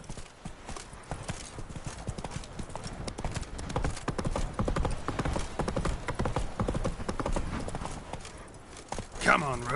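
Roach the horse galloping in a PS4 video game, rapid continuous hoofbeats rising and falling with a brief whinny near the end, under game voices.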